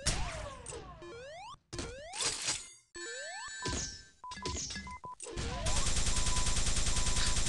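Video game weapons fire: a grenade launch and plasma gun shots, heard as rapid sharp zapping blasts with rising and falling synthetic sweeps, several bursts separated by short gaps, then a dense sustained volley at the end.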